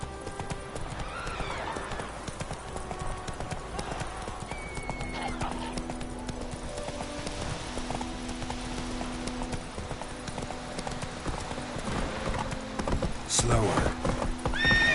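Hoofbeats of the horse Roach from The Witcher game, a steady clip-clop of galloping with occasional whinnies, mid-distance under intermittent game dialogue and ambient music.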